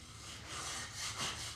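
Short rough strokes of a blade being sharpened on a coarse-grit stone in a woodworking shop, a few quiet rasping rubs swelling and fading.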